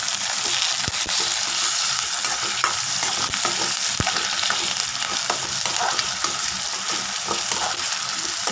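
Onions and tomato sauté in a pan while being stirred, producing a dense, steady close sizzle with frequent scraping and tapping of the spoon against the pan.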